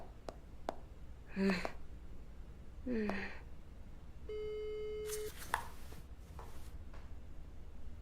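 A telephone line plays a steady electronic tone for about a second, signalling that the dialed number is unavailable. Brief voice sounds and faint clicks come before it, with soft noise afterward.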